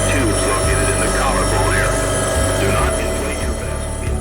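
A helicopter taking off over West Houston gives a loud, steady engine and rotor drone with a thin high whine running through it throughout.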